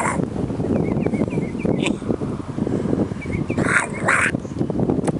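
A person imitates a duck's quack in a few quick short nasal bursts over a rough, noisy outdoor background.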